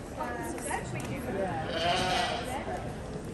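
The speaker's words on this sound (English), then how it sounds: "These are my friend's sheep" Sheep bleating on a farm in the Scottish Borders, a few overlapping calls heard under steady talk and background noise.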